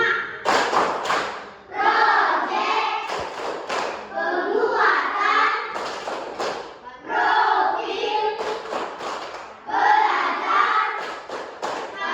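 Group of school students performing a rhythmic chant-and-clap routine, bursts of clapping and thumps in a repeating pattern alternating with voices chanting together, fairly close and lively.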